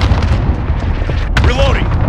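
Cluster strike explosions from the multiplayer shooter Modern Warfare rumble as a dense, continuous barrage of booms and bursts, loud and close, with a sharper blast near the end.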